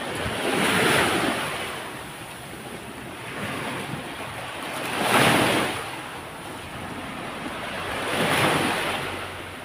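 Rough sea waves crash and roll in three broad surges, each swelling into a loud hiss of surf before easing back, with wind buffeting the microphone throughout.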